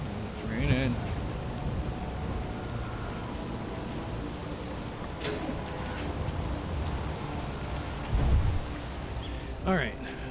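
Rain and thunder in the video game Space Engineers: a constant wash of rainfall with low rumbling thunder swelling at a few points, plus a couple of brief chirping game sounds over the steady downpour.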